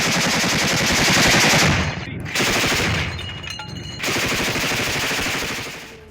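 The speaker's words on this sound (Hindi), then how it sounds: "BMD असॉल्ट व्हीकल से भीषण गोलाबारी की गई है।" Heavy automatic gunfire from a BMD assault vehicle in a war zone: sustained, loud, rapid bursts of shots with two brief pauses between long volleys, dense and unbroken, with no talking.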